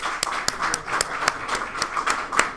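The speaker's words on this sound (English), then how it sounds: "I'm going to applaud him from back here." Hands clap at a steady, slightly uneven rhythm, about ten crisp claps close by during a pinball tournament final, with a faint murmur of the room beneath.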